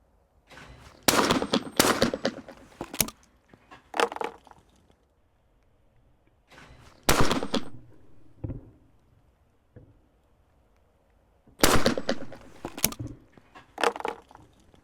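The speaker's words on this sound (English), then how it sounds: "here we are shooting a high single and then a pair that's shot high bird first" Shotgun blasts at clay targets on an outdoor shooting course ring out in three separated clusters, each a loud, sharp crack or quick pair of cracks with a short echo tail, and quiet gaps between them.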